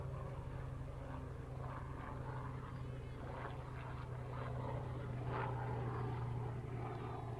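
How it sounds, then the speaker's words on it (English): A low airplane passing overhead on approach near Logan airport, a steady droning engine hum that swells slightly toward the end, heard at a baseball game with faint crowd or voice sounds underneath. "You might hear that plane flying overhead."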